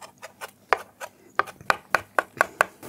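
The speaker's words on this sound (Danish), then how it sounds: "Så er det nemmere at hakke dem." Sharp knife strokes chop mashed, flattened capers on a board for homemade tartar sauce, about a dozen close, crisp knocks in an irregular rhythm.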